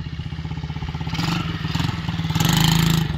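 A dirt bike engine idles with a loud, rapid, pulsing chug, then revs up twice in swelling bursts before settling back, close and prominent, alone without talking.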